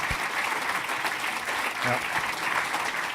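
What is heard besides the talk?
round of applause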